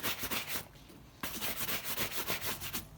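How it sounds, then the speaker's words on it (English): A cloth or brush rubs polish into a repaired leather boot, a close, steady, rhythmic scrubbing that continues with a brief pause partway through. "Get a bit of polish on it. And rub it in."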